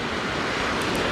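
Ocean surf breaking steadily on a beach during shark fishing from the shore, a constant broadband wash of waves with some wind noise, close and loud throughout.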